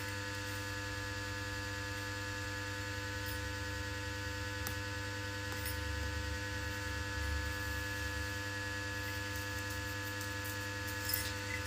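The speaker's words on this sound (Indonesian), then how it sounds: "Suara apa itu? Suara kipas" An electric fan hums indoors, a steady, low electrical drone that continues unbroken and fairly faint throughout, with a few soft clicks and no voices.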